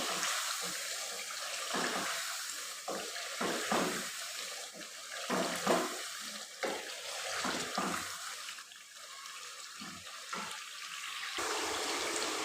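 Water poured into a pot of fried chicken for shorba, a steady splashing rush that runs for several seconds with small fluctuations and no talking.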